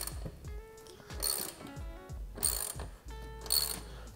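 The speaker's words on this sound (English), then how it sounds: "take your 14 millimeter wrench to the bolt on the bottom of the saddle" Ratcheting clicks from a 14 mm wrench loosening the bolt under a bike saddle on a Lectric XP trike, sounding as repeated close metallic ratchet strokes in quick bursts, with no talk.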